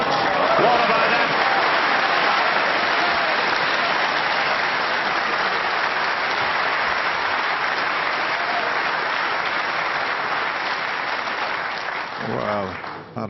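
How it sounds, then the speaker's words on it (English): A sustained round of applause from the crowd at a World Snooker Championship semifinal after a shot, loud and dense for over ten seconds before tapering off near the end. "that round of applause, it sounded like he just won a tournament"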